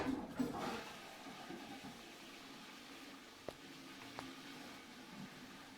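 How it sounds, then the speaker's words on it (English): A toilet flushes in the video game Gone Home, a broad rushing swirl of water that starts strong, then settles into a quieter, steady refilling hiss with a couple of faint clicks. "Once we flush this toilet"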